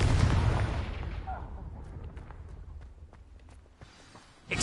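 A Confringo fire spell blasts in Hogwarts Legacy, a loud booming explosion that decays over a couple of seconds, followed by scattered crackles and footsteps, then another rising burst at the end.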